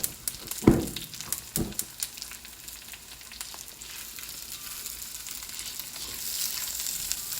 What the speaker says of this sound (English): So these onions are going to cook up.